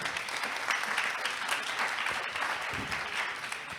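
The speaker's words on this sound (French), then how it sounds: "Je vous demande de l'applaudir, s'il vous plaît." An audience at a French business debate applauds, a dense, sustained clapping that stays fairly loud and even throughout.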